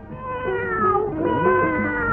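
A cat meows in a long, drawn-out, wavering cry, close and clear, with no voices around it.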